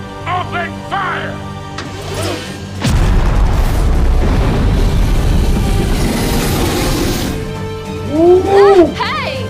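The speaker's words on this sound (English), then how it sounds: "Heavy cannon, open fire!" A sudden deep boom from heavy cannon fire, followed by a sustained low rumbling roar, with shouting voices and music-like tones around it.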